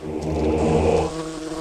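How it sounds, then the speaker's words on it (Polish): Buzzing insect drone of a fly in the Dungeon Keeper video game, a steady harmonic hum lasting over a second and easing slightly toward the end, with no talk over it. "A teraz mucha trzeba znaleźć."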